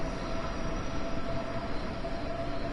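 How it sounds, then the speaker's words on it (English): An ICE high-speed train sits in a rail yard in Train Sim World 2, giving off a steady low rumble and hum with a faint constant tone, loud and close with no talking. "There's the ice train in the yard."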